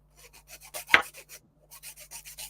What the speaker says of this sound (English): I'm just doing a bit of filing.